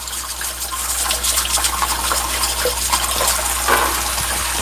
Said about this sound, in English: have the water going a little higher to penetrate the cauliflower flowering flowers, and scrub that cauliflower